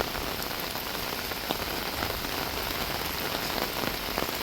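Monsoon rain pours steadily over a village, a dense, even hiss of drops hitting surfaces that continues unbroken throughout, with no talking.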